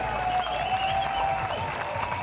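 Warm applause from spectators at a Borussia Dortmund training session for Usain Bolt, a steady wash of clapping and crowd noise holding at moderate level throughout, heard from a distance.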